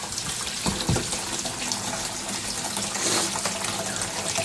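Hot water pours and splashes steadily into a vessel for home-brewed beer, a continuous close rushing trickle with a few clunks and no speech.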